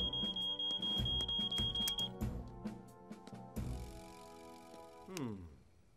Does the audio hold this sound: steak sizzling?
no